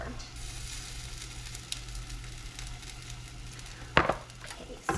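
Refried beans sizzle and fry in a pan for a Taco Bell-style Crunchwrap, a steady soft crackle broken near the end by a brief clatter of a utensil against the pan.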